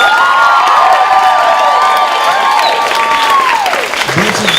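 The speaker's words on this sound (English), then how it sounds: "Give her another round of applause." Audience at an open mic art night breaking into loud, sustained applause with cheers and whoops rising over the clapping, a voice briefly heard over the crowd noise near the end.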